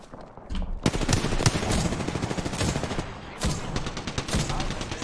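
Rapid automatic gunfire from an Apex Legends match, dense bursts of shots crackling almost continuously at close range, with a brief lull near the middle before the firing resumes.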